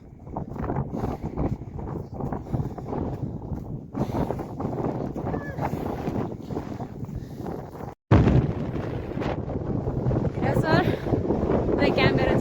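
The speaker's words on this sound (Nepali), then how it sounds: "यस्तो हावा लागिरहेछ नि" Strong wind gusts buffet the microphone outdoors on a hillside road near the Korala border in Nepal, a constant roaring rush that surges and drops, with a person speaking underneath.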